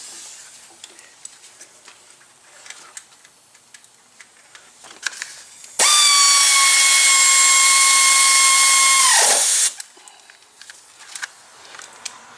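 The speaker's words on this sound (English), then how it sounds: "now you can run it with a ratchet" A power tool or driver spins a bolt on a 2015 Ford Transit 250 engine in one loud, steady, high-pitched whir of about four seconds, with quiet clicks and handling noises before and after.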